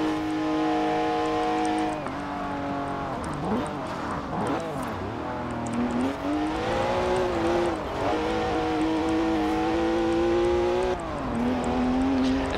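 A stock 2011 BMW 1 Series M Coupe drives in Forza Horizon 4 with a continuous engine drone whose pitch rises and falls through gear changes and revs, loud and close throughout.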